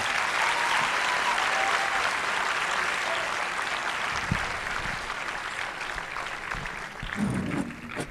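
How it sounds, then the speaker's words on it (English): Lecture audience applause for two speakers at a memorial lecture, dense sustained clapping from a large crowd that gradually thins toward the end, with a few faint sounds underneath. "a round of applause for both our speakers."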